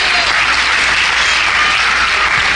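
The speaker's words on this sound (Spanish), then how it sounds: "Denle un aplauso al Señor." A church congregation claps together in loud, dense, steady applause that fills the space for a few seconds without letting up.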